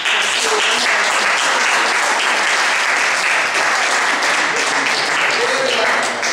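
Sustained, loud applause from an audience at a political candidates' presentation in Ancona, dense and steady clapping filling the whole stretch with no pause.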